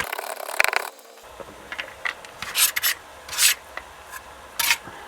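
A knife scrapes and rubs across a cutting board while mincing garlic for gumbo, a series of short raspy strokes in irregular bursts, fairly close and unaccompanied by talk.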